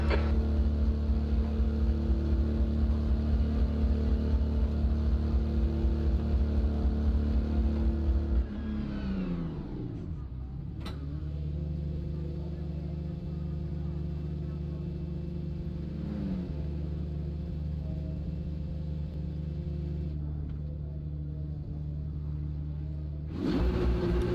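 BMW race car engine in the pit lane at Road Atlanta in the iRacing video game, a steady loud drone that drops in pitch and settles into a lower limiter-speed hum, continuing alone for over twenty seconds.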